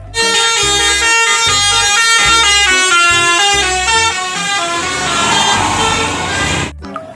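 A toy bus plays a loud telolet horn tune, a rapid melodic sequence of honking tones that repeats for several seconds before cutting off abruptly.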